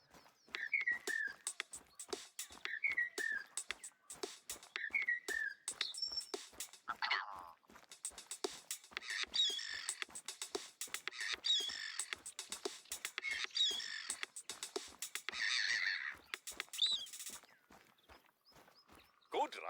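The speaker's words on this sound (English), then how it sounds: "We recorded the call of some birds and made this." A short tune built from recorded bird calls in the video game Revontuli Coast: whistled chirps and caw-like notes repeat in a bouncy rhythm over steady clicking beats, with a louder burst of calls near the end.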